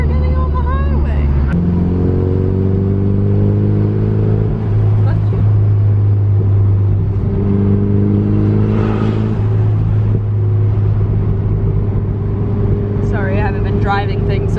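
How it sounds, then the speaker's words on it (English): An SR20DET-powered car runs on the road with a stuttering spot, its engine rumbling and revving steadily at close range while people talk inside the cabin over it. "this car's doing it again. It's got like a stutter spot."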